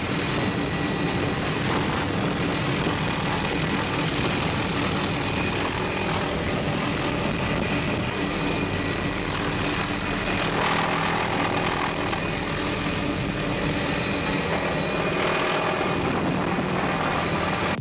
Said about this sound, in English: This helicopter pilot flying really low through a rainforest.